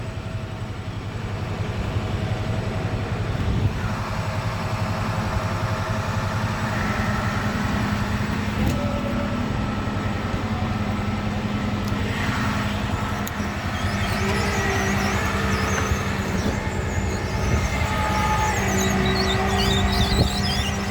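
A vehicle engine runs at a steady, loud, droning idle nearby while pulling a 1960 DeSoto Adventurer two-door hardtop whose left wheel is locked, with faint scrapes and creaks over the hum.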